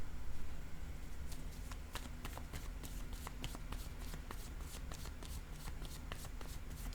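Tarot cards are shuffled close up, a continuous run of quick riffling flicks and soft card snaps at a steady rhythm, with no talking.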